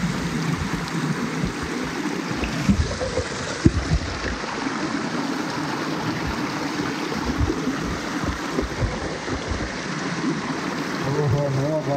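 Stream water at Medha waterfall in Songadh rushes steadily and close, with splashes while someone washes their face in it, a continuous watery hiss and gurgle throughout.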